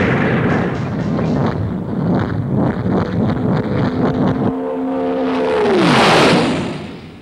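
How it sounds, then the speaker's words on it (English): A loud, rushing engine roar with a rising whistle that swells toward the end, broad and noisy like rockets firing close by. "Zero, fire rocket engines."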